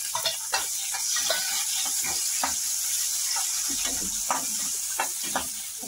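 Finely chopped onion frying with green chillies in a pan, a continuous close sizzle broken by repeated stirring scrapes and clicks of a spoon against the pan, with no one speaking.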